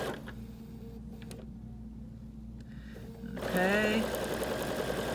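A sewing machine stitching quilt strip sets, a steady mechanical whir running throughout, joined by a higher whining tone near the end; someone speaks briefly over it.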